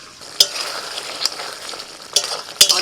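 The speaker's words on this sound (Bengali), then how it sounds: "মশলাটা কষা হয়ে গেছে, এবার দিয়ে দিচ্ছি মাশরুম।" Mushrooms hit a pan of cooked-down spice masala and fry with a steady close sizzle, broken by a few sharp clinks and scrapes of stirring.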